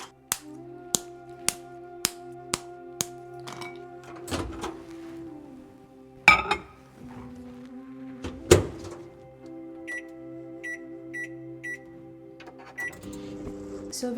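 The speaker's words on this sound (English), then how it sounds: "So we've just put chocolate in microwave." A microwave oven melting dark chocolate gives a row of six sharp keypad beeps, then a low steady hum. Door clunks and kitchen knocks follow, with a few faint chimes near the end.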